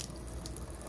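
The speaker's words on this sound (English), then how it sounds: "So I'm gonna get a little bit of water going" Water running from a tap into a cup or sink at a nail tech's workstation: a brief, steady, broadband rushing hiss with no voices.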